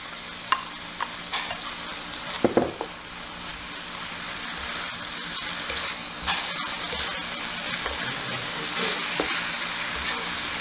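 Chicken liver stir-frying with ginger in a pan, a steady close sizzle and hiss with a few sharp clanks of a utensil near the start.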